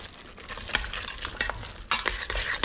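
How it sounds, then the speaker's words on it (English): Spoon stirring lobster, butter and cream cheese together for mac and cheese in an Instant Pot, a continuous close scraping and squelching swirl with soft sizzle-like hiss, no voices. "We're gonna just go ahead and start mixing that real quick."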